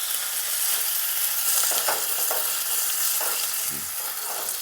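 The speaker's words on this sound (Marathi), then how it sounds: "तेल छान तापले. आता राई घालायची आहे, हिरवी मिरची," Mustard seeds and green chillies hitting hot oil for a tadka, a loud continuous sizzle and crackle with scattered pops, close up and steady throughout with no voices.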